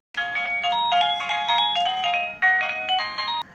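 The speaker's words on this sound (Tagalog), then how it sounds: "papalitan ko na nga din ang battery ng aking doorbell at naghihingalo na ang tunog kapag tumatawag si Lola" A battery-powered doorbell with a dying battery plays an electronic chime melody, a steady run of tones lasting about three seconds with a short break partway through, fairly loud and with no voices.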